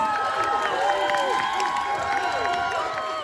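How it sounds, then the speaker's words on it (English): A live audience at a drag competition critique session cheers loudly for a contestant, with shrill whoops and yells over steady clapping, continuous and dense throughout. "Give us a massive cheer for Moses!"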